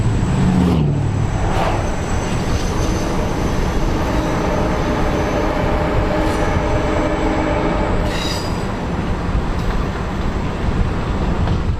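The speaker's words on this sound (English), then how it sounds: "we hear and see the 11 a.m. excursion being pulled northbound" An excursion train pulled northbound by Cuyahoga Valley FPA-4 Alco diesels rolls past in the valley near Ira Road, a loud, sustained rumble of wheels and cars with squealing flange and rail noise throughout.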